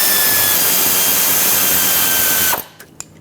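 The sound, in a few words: tightening a bolt with a 14mm socket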